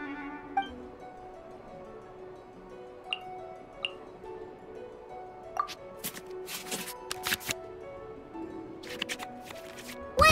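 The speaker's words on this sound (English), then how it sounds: "we can select any number of cards in our hand to shuffle back into the draw pile" Card shuffling sound effect from the Genius Invokation TCG card game in Genshin Impact, heard as soft dry riffling clicks in quick clusters over quiet game music.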